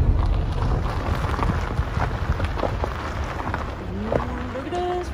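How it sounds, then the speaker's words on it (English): Wind buffets a handheld microphone on a mountain road above the Rhyolite ghost town in Nevada, a loud, steady low rumble with gusty swells that runs through the whole stretch. "Pardon the wind."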